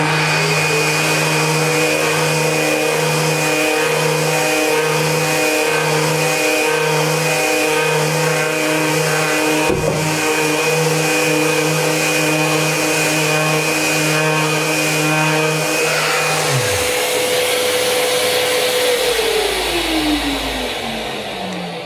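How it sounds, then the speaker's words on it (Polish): Festool DTSC 400 cordless delta sander running alongside a Bluetooth-linked dust extractor, a loud steady motor whine and vacuum roar that holds for many seconds, then cuts off and spins down. "Odkurzacz skomunikowany przez Bluetooth."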